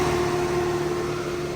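A Powerscreen Chieftain 1400S screener's engine runs at high throttle, a loud steady droning hum with a constant tonal whine and no pauses.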